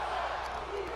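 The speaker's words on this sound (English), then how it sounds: "And it sounds like this crowd is behind the Usos" Crowd noise from the WWE 2K19 wrestling video game, a steady, fairly quiet roar of cheering spectators lasting about a second with no clear peaks.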